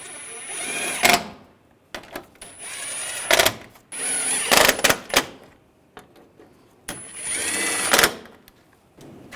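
A power driver runs screws in to snug down an upper grille on a 2009-2010 BMW 535i xDrive, four close, loud whirring bursts of about a second each, separated by handling clicks and quiet gaps.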